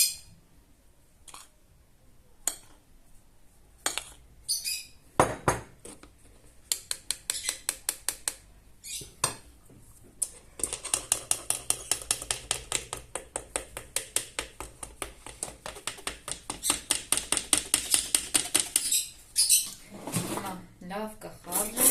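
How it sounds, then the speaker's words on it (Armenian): A sieve is tapped repeatedly while sifting flour for dough, producing rapid rhythmic knocks and rattles that come in short bursts at first and then as a long, dense run of taps. "Հիմա արդեն լցնենք ալյուրը։ Ինչպես նշեցի, պետք է ավելացնենք մաղի օգնությամբ,"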